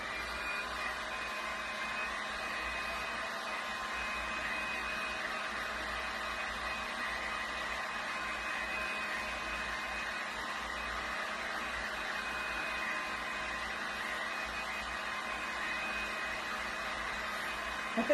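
A hot heat dryer runs steadily to dry fresh paint on a piece of refinished furniture, a continuous, even blowing hiss with no pauses and no voices.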